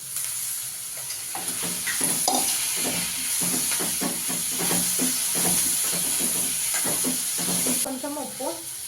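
Potatoes and curry leaves frying in a pan, giving a steady loud sizzle and hiss with frequent stirring clatter throughout, the sizzle cutting off near the end.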